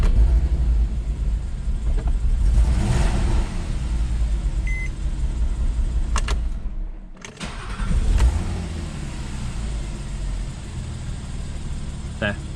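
A Porsche Cayman six-cylinder engine cranks and catches, then settles into a steady idle rumble, with a brief dip and restart midway; loud and close.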